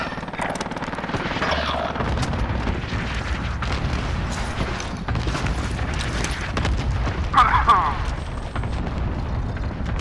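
Cluster strike explosions rumble through a Call of Duty: Modern Warfare match, a dense run of booming blasts layered under constant game noise, with players talking over the action.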